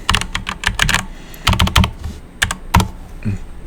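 Fast typing on a computer keyboard, bursts of crisp close key clacks in uneven clusters with short pauses between, loud and alone.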